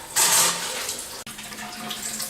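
Water gushes from a bathroom sink faucet during under-sink plumbing work, a steady close splashing flow with a brief dip partway through.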